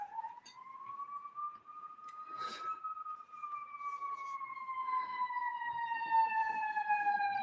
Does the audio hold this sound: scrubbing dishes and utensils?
no